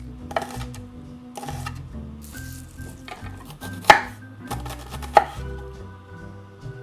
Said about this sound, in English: Now we're gonna start chopping all of our other veggies.